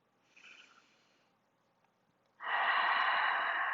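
Deep breathing during a yoga session: a soft inhale early, a pause, then a louder, close, breathy exhale that continues to the end.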